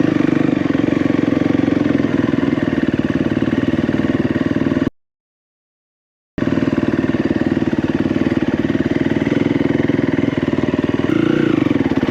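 A dirt bike engine runs steadily and loudly up close, a continuous mid-pitched motorcycle drone with a brief dropout in the middle before it resumes.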